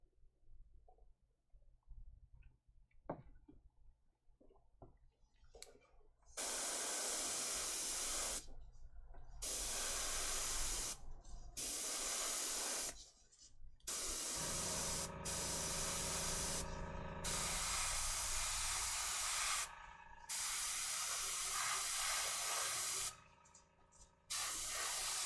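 An airbrush sprays paint in repeated loud, hissing bursts of several seconds each, separated by short silent pauses, with no talking.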